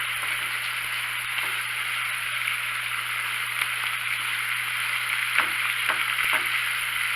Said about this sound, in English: Just raise the flame and let this reduce a little bit more.